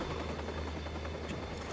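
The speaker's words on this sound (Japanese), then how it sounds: "あのヘリコプターすげえ邪魔なんだけど" A helicopter in the video game Watch Dogs gives off a steady, close rotor drone with low thudding and a broad engine roar that persists without a break.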